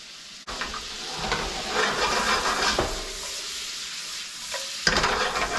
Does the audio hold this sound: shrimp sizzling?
yes